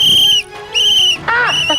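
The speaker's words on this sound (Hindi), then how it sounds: "3 बार सीटी बजाई" A shrill whistle blown three times in quick succession, loud and close, with short gaps between blasts, the last one warbling slightly.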